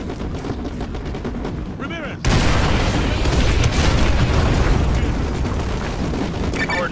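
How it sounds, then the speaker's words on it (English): Heavy artillery fire in Call of Duty Modern Warfare 2 Remastered: after a quieter stretch with a few whistling sounds, a loud dense barrage of booms and gunfire erupts and rolls on steadily to the end. "Fire mission received. Artillery inbound."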